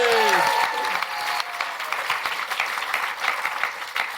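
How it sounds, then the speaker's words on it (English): A studio audience applauds steadily for a returning guest on a books podcast, the dense clapping filling the whole stretch at close range, with a brief voice fading out at the start. "Simon Garfield, round of applause for Simon"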